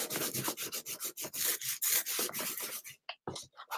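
Distress ink is rubbed onto paper in quick, repeated scrubbing strokes: a close, fairly loud dry rasping with short pauses, ending in a few separate scuffs, with no talking.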